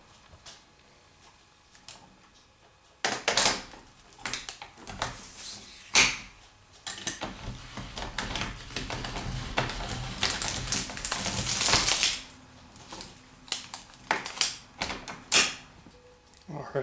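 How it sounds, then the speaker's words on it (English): A hand-cranked can opener cuts into a can of green beans in a kitchen: bursts of close, ratcheting clicks and metallic ticks, with a quiet stretch at the start and uneven cranking after. "open it up here on the can opener"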